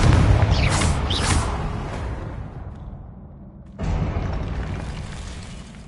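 A Confringo spell explosion in a Harry Potter video game: a loud, close, booming blast with a long rumbling decay, followed by a sharp second burst of noise after a brief near-silence.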